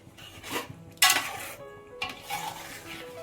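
A ladle scrapes and clinks against a metal pot while chicken biryani masala is mixed, several separate metallic knocks and stirring scrapes spread over a few seconds, close and fairly loud.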